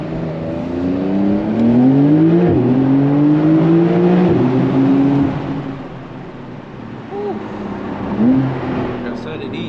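A 2021 Porsche 992 Carrera engine revs hard while accelerating, pitch climbing in repeated sweeps through gear changes, loud and close from inside the car, easing off briefly before a final rising rev.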